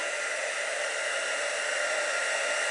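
A handheld heat tool, like a hair dryer, held about an inch from a stamped card image, giving a constant close, loud whooshing blower hiss with no change in level and no talking.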